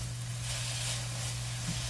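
Sliced steak sizzles and fries steadily in a hot pan, a close, continuous hiss with no talking.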